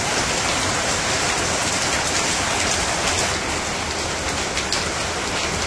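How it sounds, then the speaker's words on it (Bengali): Rain falls steadily in rural Bangladesh during the rainy season, a dense, even hiss of drops on surfaces that stays constant and fairly loud throughout, with no voices. "বৃষ্টির ভাব শুরু হয়েছে।"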